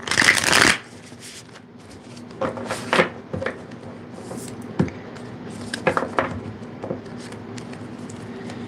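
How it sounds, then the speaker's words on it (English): A deck of tarot cards is shuffled during a reading: a loud riffle at the start, then softer, irregular flicks and slides of cards, close up with no talking. "Let me shuffle these cards with the intention we had."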